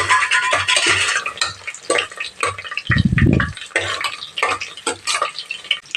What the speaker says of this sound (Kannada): ಎಣ್ಣೆ ತುಪ್ಪ ಎರಡು ಮಿಕ್ಸ್ ಮಾಡಿ ಬಿಸಿ ಮಾಡೋಕ್ಕೆ ಇಟ್ಟಿದ್ದೀನಿ. ಈಗ ಚಕ್ಕೆ, ಲವಂಗ, ಏಲಕ್ಕಿ, ಪಲಾವ್ ಎಲೆ, ಕಸೂರಿ ಮೆಥಿ ಎಲ್ಲ ಹಾಕ್ಕೊತಾ ಇದ್ದೀನಿ